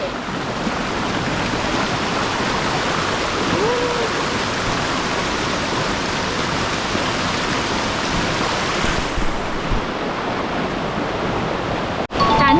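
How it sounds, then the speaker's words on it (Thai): Strong rushing water at a waterfall, a loud, unbroken roar of cascading water that fills the whole stretch, with a brief knock near the end. "น้ำไหลโคตรแรงเลย"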